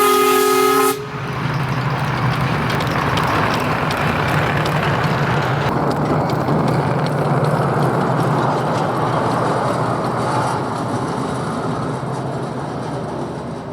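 A Santa Fe Railroad Pacific steam locomotive, one of the last of its class, running steadily with a dense rumbling chuff and rail noise that holds loud and continuous after a short opening tone.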